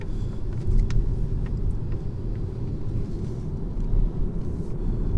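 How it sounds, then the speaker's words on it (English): A 2019 BMW 320i 2-litre petrol engine drones steadily while driving, a low rumbling hum with road noise that rises and falls slightly, no voices present. "it sounds like a regular 2-litre petrol"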